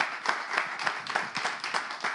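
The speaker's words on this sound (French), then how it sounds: "On va les applaudir encore, merci beaucoup." Audience applause for dancers at a local show, a fairly faint, rhythmic clapping with distinct beats roughly every quarter second, as if a small crowd claps in time, continuing briefly without talk.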